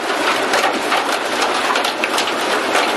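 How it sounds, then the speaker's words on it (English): Hailstorm in Trinidad, Colorado: a steady, loud wash of hailstones pelting surfaces, dense and unbroken throughout with no voices. "We got a hailstorm."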